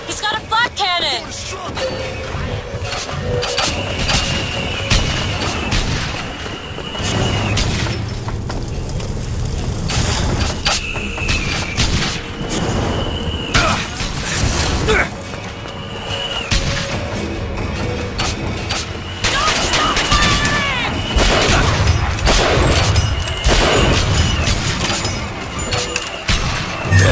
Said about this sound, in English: He's got a flak cannon!